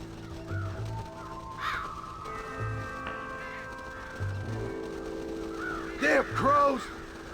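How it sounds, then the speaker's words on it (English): Crows caw in the video game Red Dead Redemption, two or three raspy calls near the end over sustained in-game ambient tones and low thuds. "Damn crows!"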